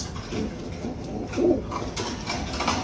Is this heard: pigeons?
yes